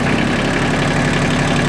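Kubota compact tractor engine revving steadily, a loud, close diesel drone with a continuous low rumble throughout.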